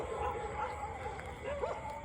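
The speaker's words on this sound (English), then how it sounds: "the dogs are quite excited about people being out here" Dogs outside a temple in Bangkok yip and whine excitedly at a distance, thin high cries rising and falling over a constant outdoor street hum.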